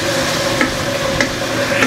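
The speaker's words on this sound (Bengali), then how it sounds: "এইভাবে করে ভালোভাবে মশলাটা কষাই নিব" Spice paste with garlic, onion paste, ginger paste and chopped onion fries in a pan for a dried-fish curry, giving a steady close sizzle broken by repeated scraping stirs, with no talking.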